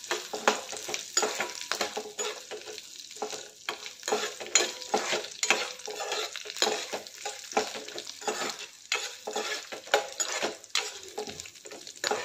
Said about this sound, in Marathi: काजू आणि शेंगदाणे एकत्रच घालते। हे सर्व चांगलं परतून घेऊया तेल तुपामध्ये।